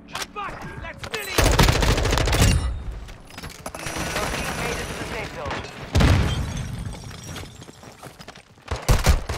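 Sniper gunfire in an online shooter video game: loud cracks and bursts of shots with heavy booming impacts, arriving in clusters throughout while players talk over the action.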